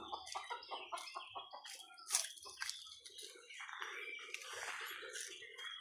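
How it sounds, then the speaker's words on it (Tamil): A rooster clucks in quick, close bursts, with busy scratching and rustling sounds around it and a louder squawk partway through. "இவர் பாருங்க இந்த சேவல் ரொம்ப பிஸியாக போயிட்டுருக்குறாரு"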